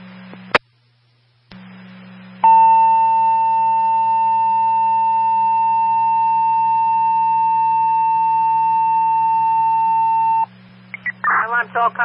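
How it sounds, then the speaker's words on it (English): A steady electronic fire evacuation alert tone blares continuously over a fire department radio channel during a three-alarm fire, for several seconds, preceded by a brief click and static, with a voice starting as it ends. "Fire alarm, tone off an evacuation,"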